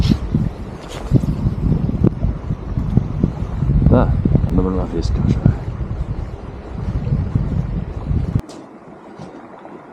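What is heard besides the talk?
wind gusts outdoors by a river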